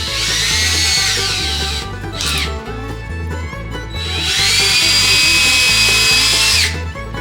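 A power drill whines loudly in two long bursts as it bores a small test hole for a tiny screw, revving up, holding a steady high pitch, then spinning down, with a brief pause between.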